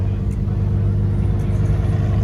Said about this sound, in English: Wow, if you guys can hear this car, it's fucking intoxicated.